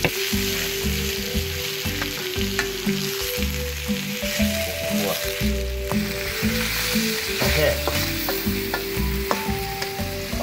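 Fatty, skinless pork belly frying and stirred in a hot pan, a loud, continuous sizzle with scraping and clattering utensil strokes close by.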